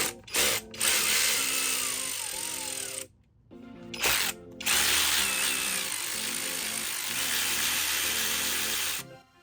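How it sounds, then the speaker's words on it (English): Power tool driving off a grounding bolt on a 2006 Polaris Scrambler 500 ATV during disassembly, a loud continuous whirring rattle in several long bursts separated by brief stops. "now we can take off that grounding bolt"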